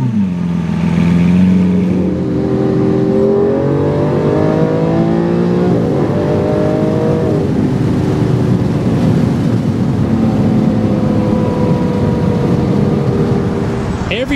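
A 2014 Lamborghini Aventador LP720-4 50th anniversary engine revs loudly and continuously nearby, its pitch climbing and shifting through several rising sweeps over a deep steady roar, with no talk over it.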